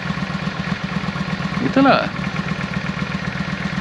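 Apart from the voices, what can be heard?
motorcycle engine idling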